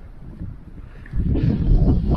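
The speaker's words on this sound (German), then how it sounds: "Ganz schön windig ist es hier." Wind gusts across an open meadow at a closed alpine hut in winter. A low, rumbling buffet hits the microphone, quieter at first, then swells louder and steadier partway through.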